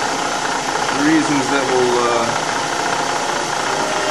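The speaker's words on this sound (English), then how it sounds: "Now I've got my handle back in the lathe, ready for, there's the slots you can see, ready for what will be some of the final cutting" A wood lathe turning a flogger handle gives off a steady, droning mechanical hum that stays constant throughout, with someone talking close over it.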